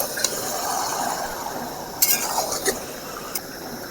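Chicken curry, a kosha-style dish, is stirred in a pan with a soft frying hiss under it, broken by a few sharp metallic clinks of a spoon against the pan.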